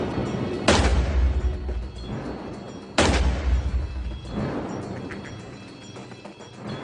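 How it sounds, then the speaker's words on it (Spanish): A firearm with a longer barrel fires two loud, booming shots about two seconds apart, each followed by a long rumbling decay. "nuestro experto en armas de fuego usará un cañón más largo que concentra el disparo"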